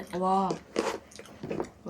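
Someone chews a crunchy kadaif and pistachio dessert close up, with a couple of crisp crunching bursts between brief vocal sounds.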